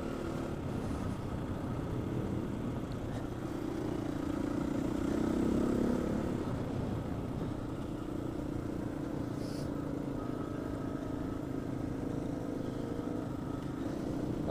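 A Scrambler motorcycle rides a trail in Wales, its engine a continuous, steady drone mixed with rumbling wind noise, with no talking.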